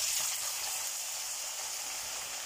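Cauliflower florets frying in foaming cold-pressed oil, giving a steady, dense hiss and sizzle that stays even and close throughout, with no voices.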